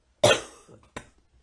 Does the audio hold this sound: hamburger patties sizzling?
no